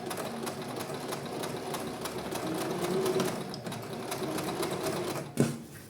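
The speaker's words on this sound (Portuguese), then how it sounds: "Então, vamos costurar." Sewing machine stitching a tulle illusion corset, a steady close mechanical whir with rapid needle ticking running throughout, briefly broken by a sharp knock near the end.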